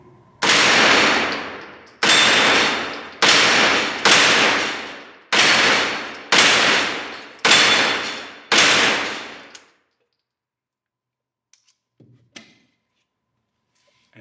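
Nine loud, evenly spaced shots from a Taran Tactical TR9 9mm AR15-style rifle, each with a sharp crack and decaying ring, fired about one per second, followed by quiet with a few faint handling clicks.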